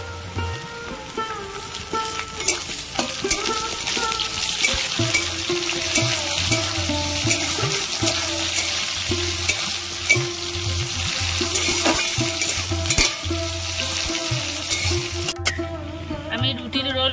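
Carrots and yardlong beans stir-fried in a wok, with a loud, steady sizzle and scraping stirs throughout, occasional clinks of a utensil against the pan, and some talk beneath.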